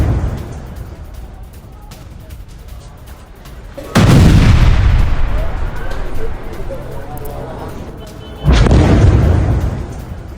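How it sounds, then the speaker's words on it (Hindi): Israeli air strikes bombing Rafah at night: two heavy booming explosions a few seconds apart, each a loud low rumble that slowly fades, over a constant background din. "राफा पर इजराइल की भीषण बमबारी की ये देर रात की तस्वीर सामने आई है"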